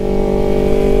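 Motorcycle fitted with an R9 Zeta Racing series exhaust, a loud, steady close-up engine drone with a constant pitch over a short stretch, no speech.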